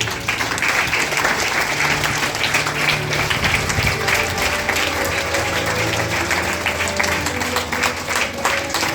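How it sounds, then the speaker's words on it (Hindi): A parish congregation in Shahdol claps continuously at a farewell for Father Jose Antony, sustained applause from a crowd that holds steady for the whole stretch. "तालियां बजती रहनी चाहिए।"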